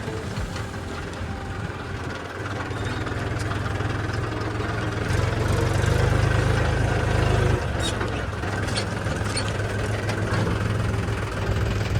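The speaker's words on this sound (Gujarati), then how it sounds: "ગાઈસ ટ્રેક્ટર ચાલુ થઈ ગયા હે" A tractor engine idles with a steady low chug, rising slightly in the middle, while faint voices and background noise come and go.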